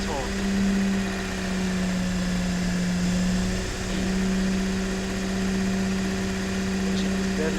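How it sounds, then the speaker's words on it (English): A low, steady engine drone at a very slow idle of around 500 RPM from a luxury high-end pickup truck in the car-building game Automation, humming continuously and evenly throughout, with a faint background hiss. "And the engine idle is so low."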